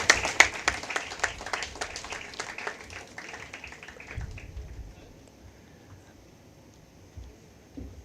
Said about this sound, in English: Can we have a big round of applause for Deepali ma'am?